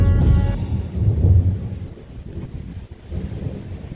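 Thunder during a lightning storm, a deep rumble that swells loudly at first, then fades into a lower, uneven roll under wind and breeze noise.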